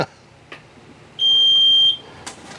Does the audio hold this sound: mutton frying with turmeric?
no